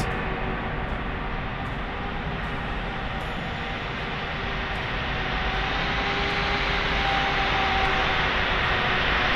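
Airliner engines roaring steadily during takeoff in Microsoft Flight Simulator 2024, a loud continuous broadband rumble with a faint rising whine and periodic soft clicks, no talk.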